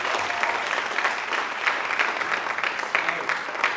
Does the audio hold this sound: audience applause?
yes